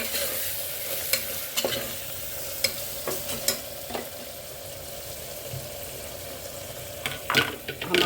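Spoon stirring ground vegetable masala through vegetables in a pan, steady soft sizzle under scattered scraping clicks against the metal, close and moderately loud, with no talk.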